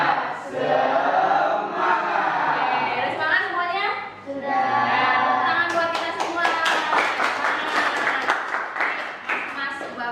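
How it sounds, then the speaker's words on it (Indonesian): Group of pupils clapping hands together in a classroom, a run of quick rhythmic claps near the end, preceded by a teacher and children talking and cheering. "Nah, tepuk tangan buat kita semua."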